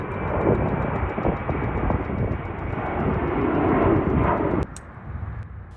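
A fixed-wing airplane taking off close to an airport observation area at Founder's Plaza gives a loud, steady engine roar that fills nearly five seconds, then cuts off sharply, leaving quieter background noise.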